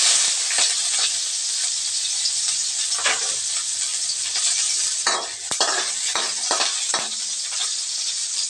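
Onions frying in oil in a pan for bihon noodles, a loud continuous sizzle up close, broken now and then by a few stirring scrapes.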